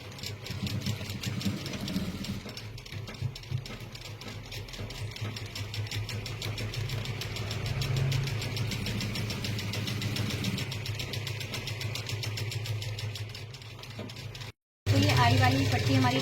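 A sewing machine stitching a blouse strip, a fast continuous mechanical whirr with steady needle ticking running for a long stretch, close, a brief silence then a sharper restart.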